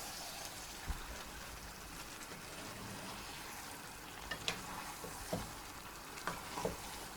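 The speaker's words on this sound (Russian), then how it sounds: "Хорошенько перемешиваем." Mashkichiri, an Uzbek dish of rice and mung beans with fried onion, being stirred in a pot, giving a steady low simmering sizzle with a few soft scraping clicks of the spoon.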